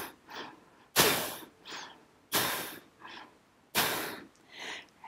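Slow, forceful pranayama breathing close to the mic: three strong, rushing exhales spaced about every 1.4 seconds, each followed by a softer, quieter inhale, with no talking.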